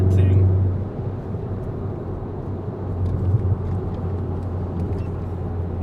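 A VW Golf R MK7.5 drives with a steady, loud low engine and road rumble throughout, a heavier surge at the start, and voices talking faintly over it.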